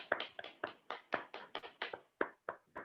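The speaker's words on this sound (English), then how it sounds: "big round of applause for the winners" Attendees of an online meeting clap for the winners, heard as about a dozen distinct, close claps in an uneven rhythm, each one sharp and separate with brief gaps between, no voices.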